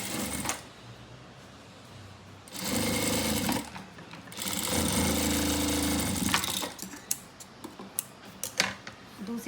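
A sewing machine stitching a salwar belt runs in two loud steady bursts, with softer ticking and handling clicks between and after the bursts.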